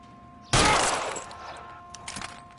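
A sudden loud burst of gunfire in a video game cuts in sharply, then decays into a noisy rattling tail, with a few smaller crackling bursts afterward.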